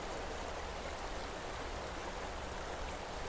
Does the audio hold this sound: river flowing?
yes